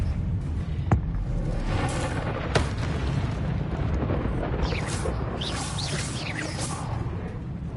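Expelliarmus spell casts in the game Hogwarts Legacy, two sharp booming blasts followed by whooshing magical effects and rumbling combat noise, no clear talking.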